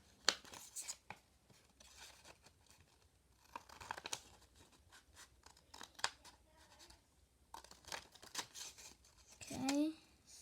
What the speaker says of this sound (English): We're gonna grab our scissors and cut out those 2 cubes.